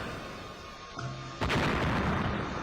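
A loud, close blast from artillery shelling during a bombardment at a fort rampart, a sudden broadband boom that erupts after a brief thump and lingers as a sustained roaring rumble.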